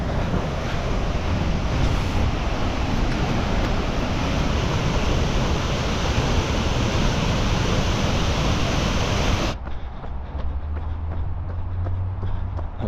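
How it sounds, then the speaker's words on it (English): Waterfall in full flow in a park, a dense, steady roar of rushing water close by that runs loud and unbroken, then drops away abruptly to softer, thinner water noise near the end. "These falls are pumping right now."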